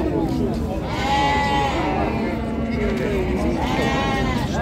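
Sheep bleat in a busy Füzuli livestock market, several calls rising over constant crowd chatter and background noise. People talk throughout.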